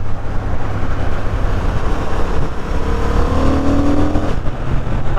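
A 2023 Honda CB750 Hornet motorcycle engine pulls steadily under acceleration in fourth gear, a loud continuous drone with rising pitch mixed with wind rush, with no talking.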